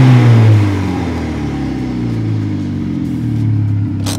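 A DF Goblin kit car drives close by with a steady mid-pitched engine drone that eases after a brief louder rev, a faint axle or clutch rattle riding underneath the hum.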